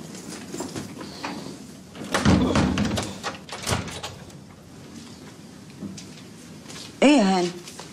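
A home door is unlocked and pushed open with a brief clunk and a heavier thump, heard up close amid ongoing conversation.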